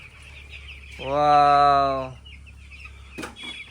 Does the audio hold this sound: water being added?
no